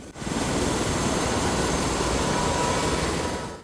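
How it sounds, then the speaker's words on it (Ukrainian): A medical helicopter coming in to land beside a hospital, a steady, loud rotor and engine roar that holds close and constant throughout with no voices. "Біля лікарні швидкої допомоги приземлився медичний гелікоптер."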